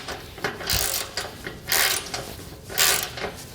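Ratchet fully tightening bolts on a trailer, giving rapid clicking bursts in a steady back-and-forth rhythm heard close and alone.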